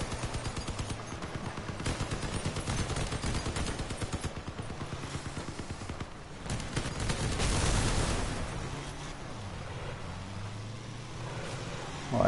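Continuous gunfire in the vehicle combat game Crossout, a dense rattling stream of rapid shots over engine rumble that eases off in the second half.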